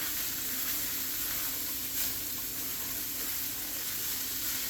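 Vegetables and fried rice cook in a Babish wok, giving a steady, close sizzle with a constant hissing texture and a faint hum underneath, with no voices.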